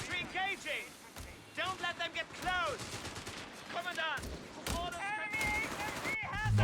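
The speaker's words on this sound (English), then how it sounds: "help spot through these machine guns, because AudoBell's got 4 of them now" Machine gun fire in Company of Heroes 3, a World War II strategy game with troops dug into woods: repeated rapid bursts and cracks of gunfire, sometimes close and sometimes farther off, mixed with other battle noise.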